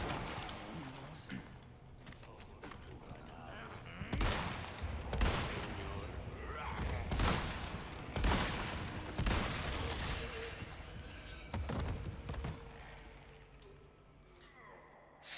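Gunshots in the video game Resident Evil 4 Remake: a series of sharp, loud shots spaced a second or two apart, with rumbling impacts between them and someone talking at times.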